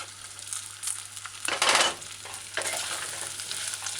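Chopped onions with a pinch of salt stir-frying in a saucepan on a medium-low stove, a soft close sizzle with scraping stirs and one brief louder burst, no talking.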